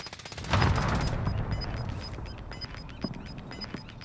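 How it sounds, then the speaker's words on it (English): Gunfire in Call of Duty: Modern Warfare erupts in a loud burst of rapid shots, then continues as scattered, somewhat distant rounds and bursts over a sustained rumbling background. "I hear shooting down this way somewhere"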